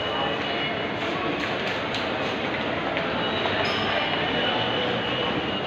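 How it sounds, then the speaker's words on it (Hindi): Busy indoor ambience at Ghatkopar metro station in India, with a steady rumbling train, faint metallic screeches, and crowd murmur with voices mixed throughout. "हम लोग यहाँ मेट्रो स्टेशन पे आ गए हैं घाटकोपर"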